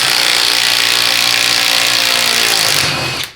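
A power tool whirs loud and steady while backing a bolt out of a 4L80E transmission case, running continuously for about three seconds before spinning down.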